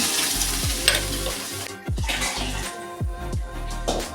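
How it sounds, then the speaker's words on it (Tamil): Ground masala paste is stirred and fried in oil in a pan for a Tamil fish curry, giving a steady loud sizzle broken by repeated scraping stir strokes, with no talking. "இதே நம்மளோட எண்ணெயில் சேர்த்துட்டு கலந்து விட்டுட்டு நம்ம அரைச்சி வச்சிருக்கிற பேஸ்ட்டை போட்டுக்கலாம்"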